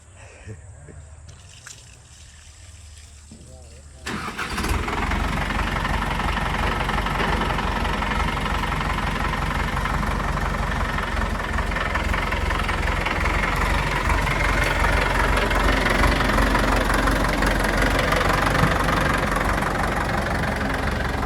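A new tractor engine starts with a loud jump after a quiet opening, then settles into a steady, close, rumbling idle that holds for the rest of the clip.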